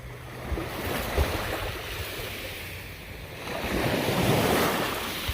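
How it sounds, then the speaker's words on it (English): Lake waves break and wash steadily against the shore at Presque Isle State Park, with gusts of wind buffeting the microphone and the surf surging louder toward the end. "Waves are kicking up a little bit now."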